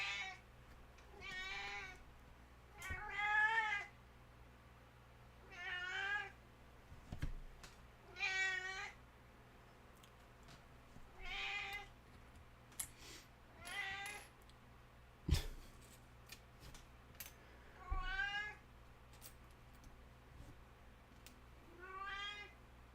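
A domestic cat meows again and again at irregular intervals, about a dozen drawn-out cries, close and fairly clear over a faint steady room hum, with occasional small knocks between them.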